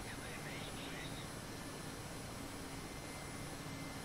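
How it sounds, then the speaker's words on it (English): In the DCS flight game, an Mi-8 helicopter builds up for a short rolling takeoff, its engine and rotor drone a dense, unbroken roar throughout, with talk over it. "we'll do a short rolling takeoff here"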